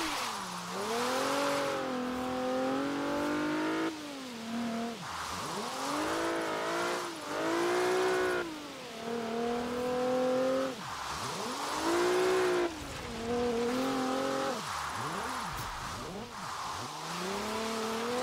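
A Nissan 370Z drifts in the Forza Horizon 3 video game, its engine revving up and down in repeated swooping sweeps, with tire squeal mixed in, loud and close, cycling through acceleration and lift-off several times.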